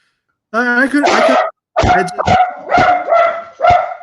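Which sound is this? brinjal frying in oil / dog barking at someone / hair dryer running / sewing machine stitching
dog barking at someone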